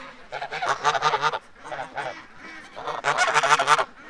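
Geese honking loudly in two bursts of repeated, overlapping calls with a short lull between, close by, with a person speaking briefly among them.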